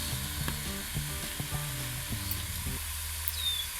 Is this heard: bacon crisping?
yes